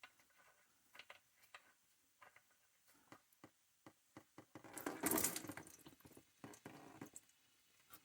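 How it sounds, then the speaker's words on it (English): Fluid from an Acura Legend drains into a pan, heard as faint scattered drips and trickles, with a brief louder splashing gush midway. "And then we will take this off and drain the fluid."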